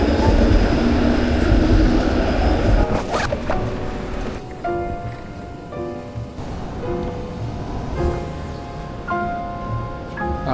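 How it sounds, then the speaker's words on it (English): A tram passes along a city street, a broad rumbling wash in the first few seconds that gives way to quieter traffic and street ambience with intermittent tonal squeals, like wheels or brakes, nearby. "Maybe when the tram passes here."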